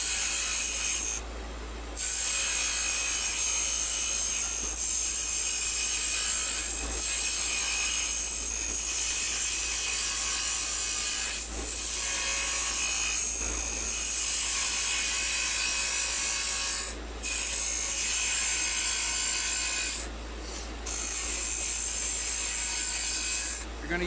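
A wood lathe turns a chess pawn as a hand tool braced on the tool rest cuts away excess wood, a continuous rough scraping and rasping over the motor's low hum, with brief pauses between cuts.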